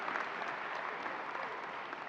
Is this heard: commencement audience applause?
yes